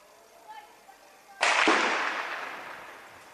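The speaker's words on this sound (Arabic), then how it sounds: "عملية تفجير وحرق المنازل المحيطة بحاجز الحرش" A single loud blast from houses being blown up around a military checkpoint in Daraa, bursting in sharply and then rumbling away, heard after a brief stretch of faint background sound.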